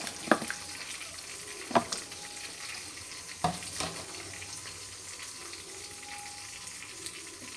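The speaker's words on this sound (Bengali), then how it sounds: "আলু কেটেও রেখেছিলাম, তো এখন দিয়ে দিচ্ছি আলুগুলো।" Cut potatoes dropped into a simmering fish curry in a pot, a few distinct thuds and clatters over a soft, low bubbling sizzle, fairly quiet and without voices.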